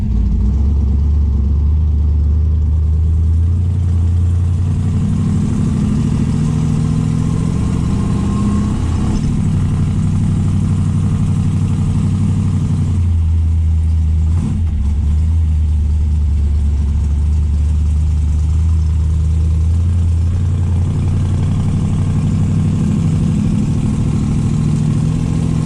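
A Dodge Dart with a cammed V8 idles loudly and close by with a choppy, lumpy rumble, its revs rising and falling a few times over a steady low drone, with no talking.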